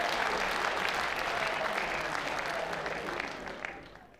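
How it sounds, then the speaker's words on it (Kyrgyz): Enthusiastic applause from a live audience at a comedy and impressions show, dense and steady at first, then gradually thinning and fading toward the end. "Абдулла аке рахмат, кол чабуулар болсун"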